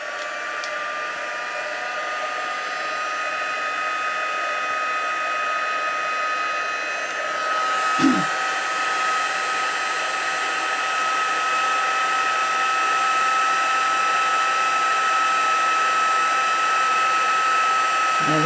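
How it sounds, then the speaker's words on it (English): A craft heat tool blows hot air to melt embossing powder on a stamped snowflake card, a steady loud whooshing drone with a high whine that runs unbroken, with a brief knock partway through. "I'm going to use my heat tool"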